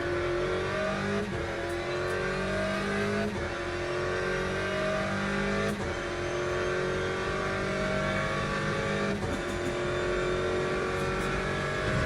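Race cars in the video game Le Mans Ultimate, including a McLaren, Ferrari, Corvette and Aston Martin, with engines revving and droning steadily, several gear changes and cars passing close by, continuous throughout with no speech.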